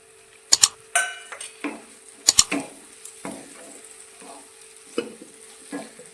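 Finely chopped large tomato tipped into a pan of frying garlic, chilli and onion, giving a few sharp utensil clinks and scrapes as it is stirred over a faint low sizzle, close by with no talking.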